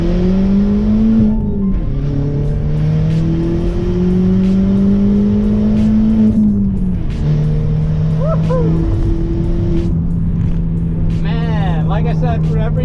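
A 2005 Volkswagen Golf GTI Mk4 pulls hard through the gears, its engine note climbing steadily, dropping at each shift, then rising again, loud and close from inside the car, with a voice talking briefly toward the end.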